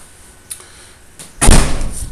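A house's front door bangs shut in one loud thud, followed by a brief rattle and a short settling tail, after a couple of quiet knocks and creaks.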